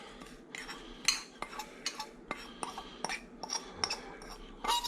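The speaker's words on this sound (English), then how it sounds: "Just gonna mix it up a little bit here." Dry spice rub of garlic, crushed red pepper and powders stirred for a London broil steak, a utensil clinking and scraping against a dish in quick irregular strokes, close and fairly loud, with no talking.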